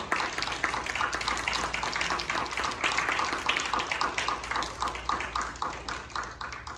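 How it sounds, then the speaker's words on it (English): An audience at an outdoor garden concert claps for the performers, a steady wash of many hands patting close together that carries throughout and thins slightly near the end. "can we give a round of applause for all these wonderful performers today?"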